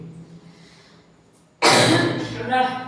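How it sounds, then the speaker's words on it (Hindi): A sudden harsh cough, probably mixed with a hiccup, bursts out loudly after a quiet stretch and rasps on for over a second from a close speaker indoors. "हिचकी खांसी सब साथ में आई।"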